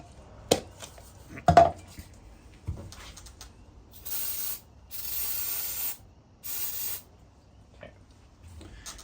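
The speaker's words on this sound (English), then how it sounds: "I am spraying all this over a catch pan" Three close bursts of aerosol parts cleaner hiss in quick succession over a catch pan on a 6.0 Powerstroke fuel filter housing, preceded by a few sharp clanks and taps of metal parts.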